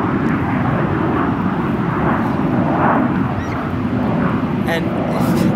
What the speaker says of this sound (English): That was a plane going right behind, like, it just went right by the Washington Monument.